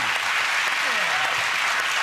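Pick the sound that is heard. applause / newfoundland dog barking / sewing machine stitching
applause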